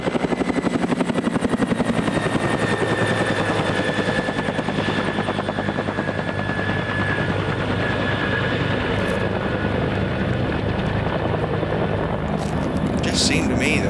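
A firefighting helicopter working a wildfire flies low overhead, its rotor chop loud and continuous with steady rhythmic thumping throughout, close by, while someone talks briefly over it.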